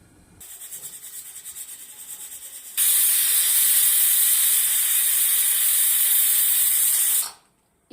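A pressure cooker of brinjal and valor bean curry lets off a soft hiss that swells at once into a loud, sustained whistle of escaping steam, holding steady for several seconds before cutting off abruptly.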